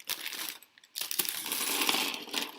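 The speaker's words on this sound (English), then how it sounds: "Sorry for the loud crinkling." Lego set packaging for Rise of Skywalker and Brickheadz builds crinkles loudly and close up, in two bursts of dense crackling plastic separated by a short pause, with no talk.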